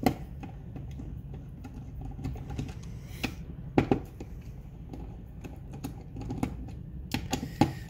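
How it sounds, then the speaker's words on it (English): Screws are unscrewed from slotted nuts by hand, giving a run of small clicks and ticks at an uneven pace, close up, with a few sharper snaps standing out. "the screws that I'm undoing right now, they are screwing into nuts which have their own slots inside"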